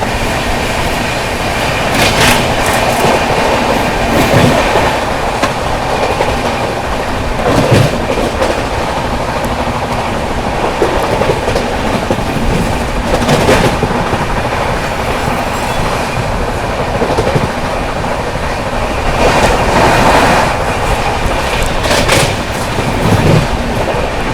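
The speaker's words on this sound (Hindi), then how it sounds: "गाड़ी गजब की रफ्तार में भाग रही है" A 12264 Hazrat Nizamuddin–Pune AC Duronto Express runs at high speed past Sawai Madhopur Junction, a loud steady roar of wheels and rushing air heard from inside the coach with recurring rhythmic clatter over rail joints.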